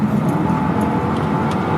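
Steady, loud road rumble from a Mercedes CLK 55 with a 350-horsepower, naturally aspirated V8, heard from inside as the car drives, continuous low engine and tyre drone with no talk.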